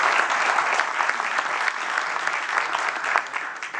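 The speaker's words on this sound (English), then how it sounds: "A round of applause for all the good work you've done" Dense, sustained applause from an awards-ceremony audience, steady and fairly loud throughout with no pause, only a faint hint of voices underneath.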